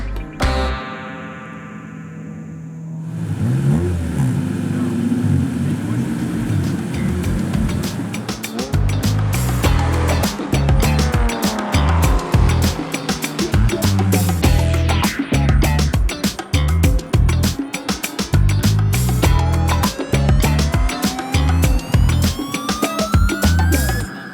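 A modified Honda Civic tears around a race track, its engine droning loud and close with rising and falling revs and gear changes across a long stretch after a brief quiet opening, with no talk.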